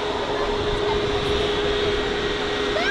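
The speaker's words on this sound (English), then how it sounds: "And finally, the Jet2 gets to move." A Jet2 airliner taxis at Manchester Airport, its engines giving a steady, continuous whine and roar at moderate distance with no break.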